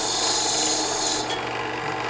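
Steady abrasive rasping as sandpaper scrubs the steel fount of a 1940s AGM KampLite RL-3 lantern, close and continuous before easing off slightly.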